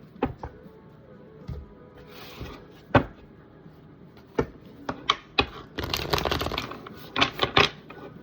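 Tarot cards shuffled and handled close up, with scattered soft taps and flicks turning into a dense papery riffle near the end, quiet with no talk.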